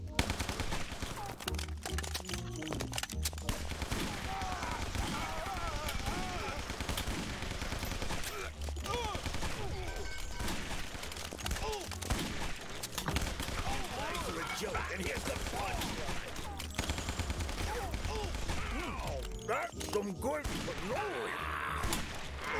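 In the video game Guns, Gore & Cannoli, dense bursts of gunfire crackle continuously throughout, loud and chaotic, while voices talk over the shooting.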